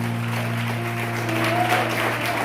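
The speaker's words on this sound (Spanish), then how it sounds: "Den un aplauso al Señor si es tan amable." Congregation clapping during a church service, moderate, fairly even applause over a steady droning tone from a keyboard or sound system.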